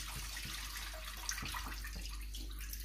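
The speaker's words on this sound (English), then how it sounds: "Pour that around the sink, get rid of it." Leftover salt brine from a pheasant breast poured out into a kitchen sink, a steady wash of running liquid with faint splashes and drips throughout, fairly quiet and without talk.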